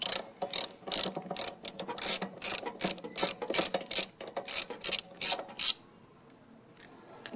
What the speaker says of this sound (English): To remove the spark plug, it's easiest with a socket, spark plug socket